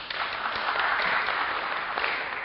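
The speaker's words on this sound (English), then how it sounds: "Everyone's clapping" Audience at a panel debate on robots and machines applauding, a continuous, even patter of many hands clapping, moderately loud and heard alone with no talk.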